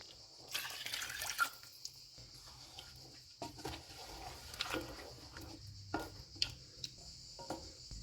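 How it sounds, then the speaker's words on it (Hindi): Two cups of water being poured into mutton karahi with tomatoes and whisked yogurt in a pan, heard as soft dripping and splashing liquid with occasional light clinks, fairly quiet throughout. "इसमें 2 कप पानी डालेंगे।"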